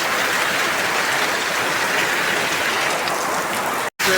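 Steady, dense rain hissing down onto a surface, loud and continuous with no voices, breaking off for a brief moment near the end.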